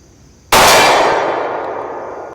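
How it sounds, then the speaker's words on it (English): A pistol round strikes a steel target plate with one sharp, loud metallic clang that rings on and slowly fades over about two seconds. "And I have a target behind that plate I just shot."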